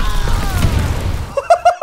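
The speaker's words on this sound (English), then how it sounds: "I died to the predator missile." A predator missile strike in Call of Duty: Vanguard lands as a loud, rumbling boom that rolls on for over a second, then gives way to a few short, sharp electronic beeps.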